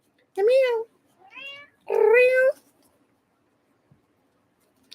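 A cat meows three times, close and clear: two strong, drawn-out calls with a shorter, softer one between them, followed by near silence.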